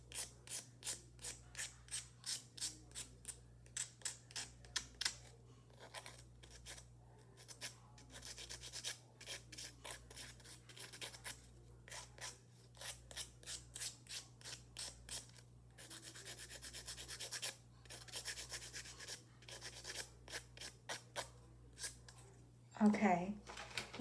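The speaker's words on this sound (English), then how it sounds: "Okay, let's file and buff." A fingernail is filed and buffed with a coarse two-sided nail file in rapid rhythmic strokes, close and fairly quiet over a steady low hum, with a brief voice near the end.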